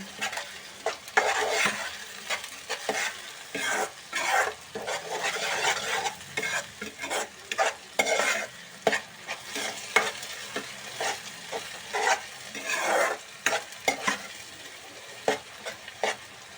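Tomato paste sizzles and fries in a pan while being stirred, with repeated scraping strokes over a steady close crackle; no talking.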